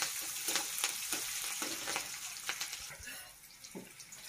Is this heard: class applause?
no